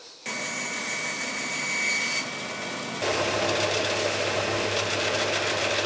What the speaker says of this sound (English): I'm going to go and sand these down